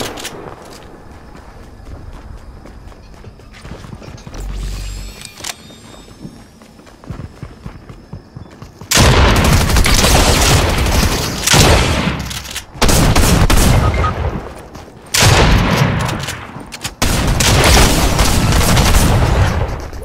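Video game gunfire in Fortnite: after a quieter stretch, dense loud bursts of rapid shooting and impacts fill the second half, broken by a few brief pauses.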